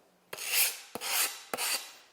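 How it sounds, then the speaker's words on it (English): A medium-grit sanding block rasps along the edge of a glass plate in three firm, evenly spaced strokes, each opening with a sharp scrape, close and alone. "is just a sanding block. Just regular medium sandpaper."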